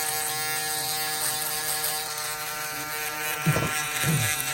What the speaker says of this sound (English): I got my Andis shaver.